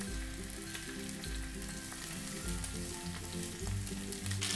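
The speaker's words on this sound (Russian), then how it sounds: "швом вниз выкладываем на раскаленное масло" Steady, close sizzling and crackling of chicken and cheese rolls frying in hot oil in a skillet, continuous and fairly loud, with a low background hum and no talking.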